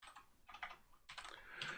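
Fingers tap quickly on a computer keyboard in a few close, bursty runs of keystrokes with short pauses between them. The typing is near and fairly quiet, with no voices over it.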